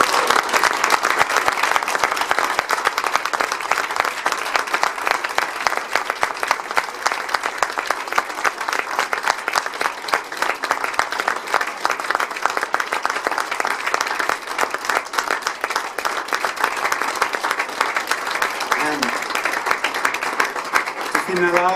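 Dense, sustained applause from a large audience at a Patek Philippe dealers' gala dinner fills the room steadily, a continuous wash of many hands clapping at close range.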